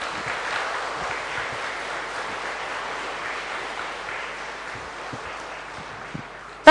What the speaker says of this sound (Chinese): 所以我们以热烈的掌声谢谢主席跟所有的干部吧